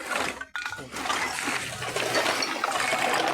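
Water trickling and splashing in a steady stream, with a brief dip near the start, close and moderately loud, with faint voices in the background.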